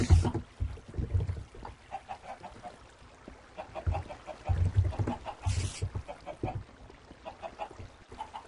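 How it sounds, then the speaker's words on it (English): Chickens in the video game Minecraft give short, repeated clucks in uneven bursts throughout, fairly close, with low background rumbles and no clear speech. "Okay, Josh is in there with his chickens"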